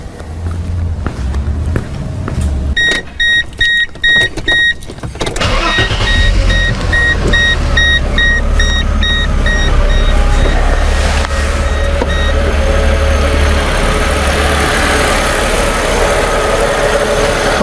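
A 1997 Mercedes-Benz E320 with a misfire cranks and starts after a few seconds of chiming beeps, then settles into a steady, close idle that runs on alone.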